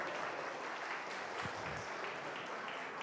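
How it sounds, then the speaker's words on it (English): Steady applause from the crowd at a public information meeting in Markdale fills the space, a dense patter of clapping that continues evenly without pause. "I'll put a round of applause."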